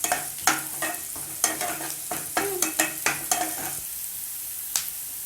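Chopped beans and carrot sautéed in a hot pan for paneer fried rice: a steady sizzle broken by repeated scraping, stirring strokes of a spatula against the pan, close and loud, with a quieter stretch near the end.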